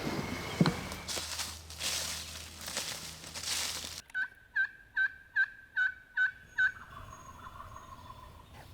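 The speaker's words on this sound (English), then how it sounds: "it sounds like at least 4 gobblers" Several sharp wild turkey gobbles ring out in a rapid series of six or so bursts from at least four gobblers after a stretch of rustling, fairly close and loud, on the Roanoke River in North Carolina.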